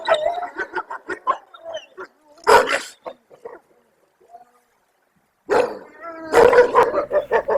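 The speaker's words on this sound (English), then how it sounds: "We're going to do a few howling clips here." Barks, yips and howl-like cries from a wolf pack come in bursts, separated by a quiet stretch, then rise again loudly.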